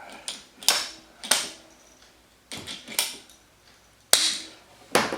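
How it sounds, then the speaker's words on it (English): A ratcheting PVC cutter bites through plastic pipe, giving sharp, loud snapping clicks in irregular bursts with quiet gaps between them. "I've got this PVC cutter."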